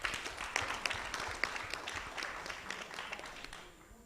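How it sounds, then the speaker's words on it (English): At an annual general meeting, a crowd gives faint, fairly distant scattered applause that stays steady and quiet, then tapers off toward the end. "Clap for him."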